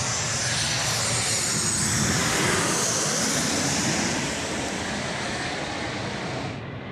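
Jet airliner on final approach at Sydney Airport at night, a loud, steady broadband engine roar that holds close and constant before easing slightly toward the end, with no talk.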